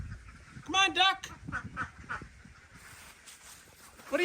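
A lone duck among Embden geese gives a few loud nasal quacks in a short burst, then fainter calls, with a person talking and calling out over it.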